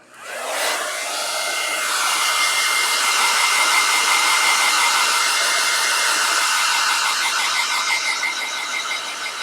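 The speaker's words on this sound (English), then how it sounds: "I'm going to turn my hair dryer on for a second and hit this guy" A hair dryer whirs on and blows steadily with a loud, high-pitched rushing hum, running alone without pause.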